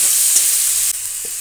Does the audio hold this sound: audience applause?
no